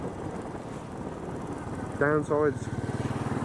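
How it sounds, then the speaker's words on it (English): A Royal Enfield 500 Bullet motorcycle idles nearby with a steady, lumpy thump that grows louder toward the end, while someone speaks briefly over it. "the engine noise isn't particularly nice, but it's unique to this part of the character"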